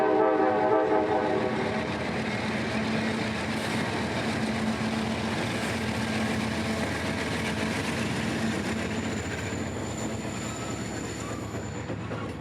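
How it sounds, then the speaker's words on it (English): A loaded CSX coal train heading for Orlando's Stanton Energy Center rolls past on double track on the S-Line in Central Florida, a close, continuous rumble of wagons and wheels with a sustained tonal drone throughout. "shots like this loaded train in the Vitus double track will only become more and more valuable"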